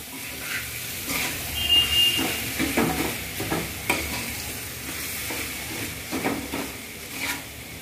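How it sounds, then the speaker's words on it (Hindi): Mashed potato being stirred and mixed by hand into spiced Indian chokha, giving soft, irregular squelching and scraping sounds with faint crackles, close and moderately loud, no voices. "अब इसी में हम डाल के अच्छे से मिलाएंगे चोखा को"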